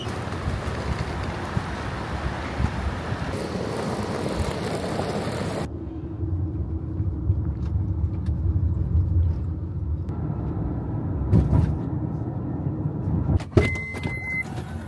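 A car arranged by hosts carries a tired traveller, its engine and road rumble steady and close, dropping to a quieter cabin drone partway through with a few brief knocks near the end; no talk.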